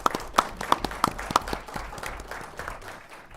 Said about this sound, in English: Let's give a round of applause to our candidates tonight.